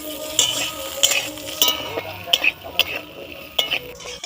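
Potatoes frying in oil in a pan while being stirred, a steady sizzle with sharp scraping and clinking strokes of a utensil against the pan at an irregular rhythm, close by.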